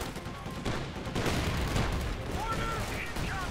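Gunfire in Company of Heroes 2 comes as repeated rattling and popping bursts, moderately quiet and dense, mixed with other battle noise.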